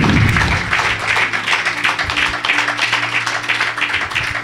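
A church congregation praising God with applause and cheers makes a dense, continuous clapping roar. A low musical hum sits beneath it.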